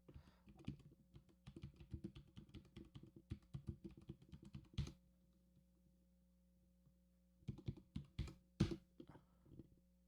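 Rapid clicking keystrokes on a new computer keyboard, close and quiet, come in a dense burst, stop for a couple of seconds, then resume briefly with a few louder taps at the end.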